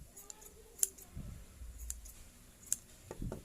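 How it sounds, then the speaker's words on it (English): A few sharp scissor snips trim excess yarn from a pom-pom, spaced apart and close by, with soft rustling in between. "take your scissors and clip off any excess that you see hanging out"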